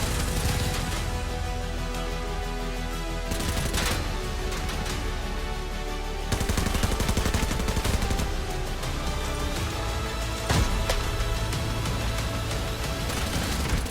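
An MDR assault rifle in the video game Arena Breakout fires loud, continuous bursts of automatic gunfire. The rapid, dense shots run almost without a break, with brief shifts in intensity.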